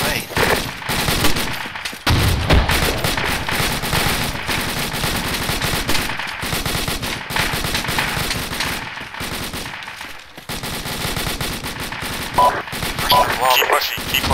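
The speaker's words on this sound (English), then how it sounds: "ARs open up on that contact. ARs, Maverick and Doc Ray start shooting. And keep shooting." Assault rifles in an Arma video game mission in an Afghan village, firing as dense, sustained automatic bursts with overlapping shots and only brief pauses, while radio-style voices talk over the gunfire.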